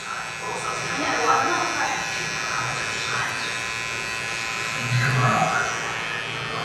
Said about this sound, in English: Just let the clippers do what they need to do.